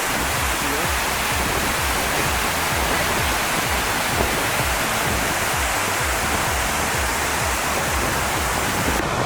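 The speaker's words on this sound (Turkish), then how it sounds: "Bu şelale de bayağı bir yüksek." A high waterfall at Kapuzbaşı in Aladağlar National Park pours down with a loud, unbroken, close roar of rushing water that holds steady throughout.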